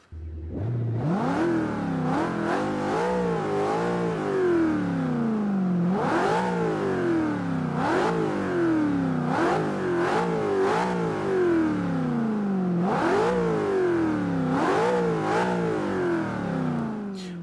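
A 2015 Ford Mustang GT V8 engine in the video game Forza 5 revs again and again in repeated rising roars that fall back between pulses, loud and steady, with no voices.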